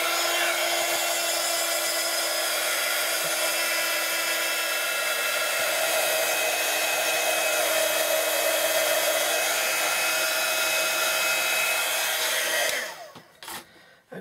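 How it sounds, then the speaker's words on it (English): A heat gun blowing hot air to dry paint for paper napkin decoupage, a loud, steady fan-like whoosh and whine running continuously before switching off near the end with a few small knocks. "when it's drying when you're using the heat gun"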